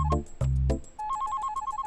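An incoming call sets off a phone ringtone: a few heavy chimed notes, then a fast, bright, repeating melodic pattern, close and clear.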